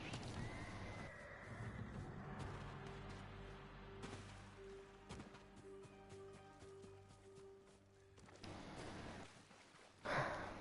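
Horse in a video game whinnies loudly near the start, followed by quieter snorts and hoof clatter, then a sharp burst near the end.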